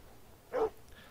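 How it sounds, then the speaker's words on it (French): Mangy stray dog in Red Dead Redemption 2, giving a single short, sharp bark that stands out clearly against quiet surroundings. "Oh là, on a un chien."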